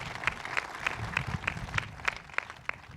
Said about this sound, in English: let's give a big round of applause to the county executive and the mayor